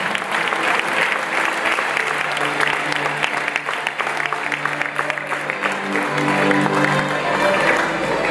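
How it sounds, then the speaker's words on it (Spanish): Sustained applause from a church congregation at an evening sermon, dense steady clapping throughout with some tonal music or voices underneath. "Dele un fuerte aplauso a la mujer de Lot en esta noche."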